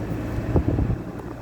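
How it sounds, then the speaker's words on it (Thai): Wind buffets the microphone in a low, steady rumble near a flooded river at a washed-out road with a temporary bridge, with a few stronger gusts midway. "เสียงลม"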